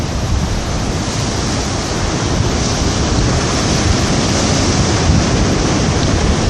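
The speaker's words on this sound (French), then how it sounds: "on voit les vagues qui se jettent sur la grève de la SRPP" Steady ocean waves break against the rocky shore beside the south jetty of Port Ouest in Réunion at dusk, a continuous loud roaring surf with wind noise and no pauses.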